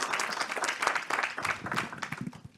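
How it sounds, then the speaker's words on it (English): An audience at a talk about plants, people and the planet breaks into steady applause, a dense patter of many hands clapping at moderate volume that holds for a few seconds before thinning out. "Let's give them a round of applause"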